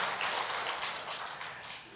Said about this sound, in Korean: 박수를 치면 확실하게 쳐야지